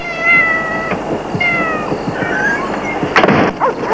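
A cat meows twice in drawn-out, whiny calls, followed by a rougher wail, over steady background noise, ending with a sharp clattering thump.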